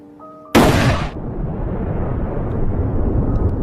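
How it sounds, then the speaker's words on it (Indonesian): A gunshot in a dramatic film scene, one sharp loud blast breaking out of near silence, followed by a long low rumbling tail of echo and ambience. "Ternyata Kades menembak Thomas yang membuatnya tewas di tempat"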